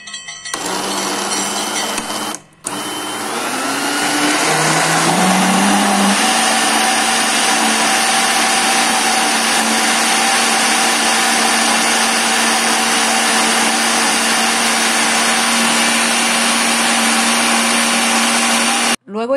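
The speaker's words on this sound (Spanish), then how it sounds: "lo incluimos a la licuadora para luego licuarlo" Blender blending boiled rice: the motor whirs up with rising pitch after a brief stop, then runs loud and steady until cut off at the end.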